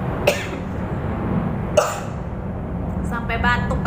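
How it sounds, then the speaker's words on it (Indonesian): Two short, sharp coughs about a second and a half apart, over a steady low background murmur, with faint rattling near the end. "Sampai batuk kan jadinya."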